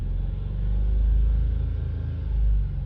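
2021 VW Polo with a 1.0 TSI turbo engine, heard up close as a low rumbling idle that swells in two brief revs.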